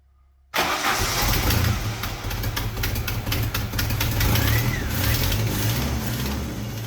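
A Jeep engine cranks and catches abruptly, then runs loud and rough with a steady, uneven rumble close by.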